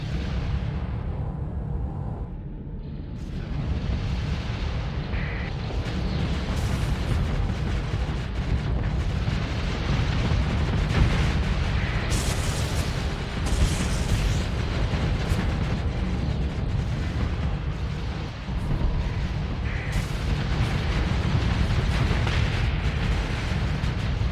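Dense, continuous weapons fire and rumbling explosions from a space battle in the Starsector game with a Star Wars-themed Zann Consortium fleet, loud and layered booms blending into a steady roar throughout with no talking.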